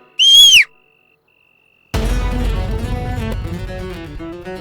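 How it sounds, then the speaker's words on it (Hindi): A single short, shrill whistle blast rings out clearly alone, followed by silence and then background music. "मैडम से मैं सीटी बजा दूंगी"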